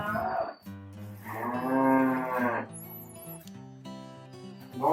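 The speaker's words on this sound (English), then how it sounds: "He loads and feeds the cattle in the mornings" Cattle on a ranch moo loudly at feeding time, several long, drawn-out calls close by, one after another with brief gaps.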